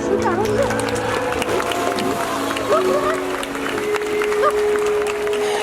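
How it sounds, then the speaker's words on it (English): Audience applause at a SeaWorld San Diego orca show for the orca Shouka: steady crowd clapping throughout, broad and continuous from a large stadium audience, with a voice and a whistle-like tone over it. "please give a big round of applause for Shouka"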